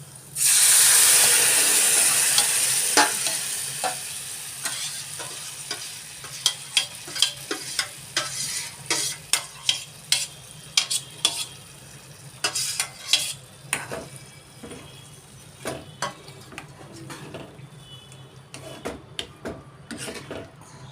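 Mango pulp hits a hot pan with a loud hissing sizzle, then a spoon scrapes and stirs in irregular clacks as the sizzle settles down.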